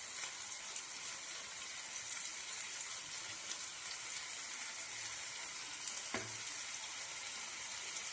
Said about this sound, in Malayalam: എണ്ണ ഒഴിച്ചു നമുക്ക് മീനുകളൊന്ന് നിരത്തി വെച്ച് മറിച്ചും തിരിച്ചിട്ട് വറുത്തെടുക്കാം